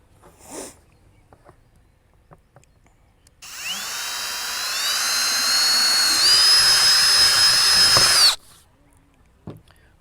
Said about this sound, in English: drill a hole on the inside of this lip here